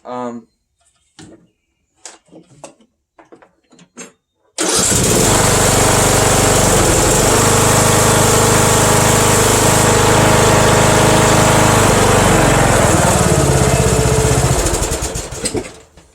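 A Troy-Bilt riding mower engine cranks briefly and catches, then runs loud and steady close by for about ten seconds before cutting off, after a few seconds of a person talking beforehand.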